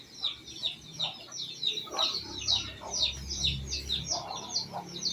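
Native Visayan chickens cluck and chirp busily at close range during feeding, a continuous chatter of short overlapping calls with soft scratching underneath.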